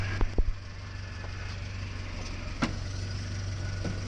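A 1953 Willys CJ3B Jeep engine runs steadily in reverse with the wheels turning, a low continuous drone with a few sharp knocks near the start and a clunk partway through; no voices.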